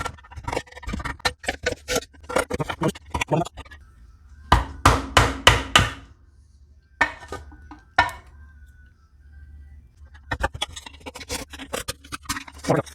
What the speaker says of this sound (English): I got a hammer and a screwdriver that works sometimes,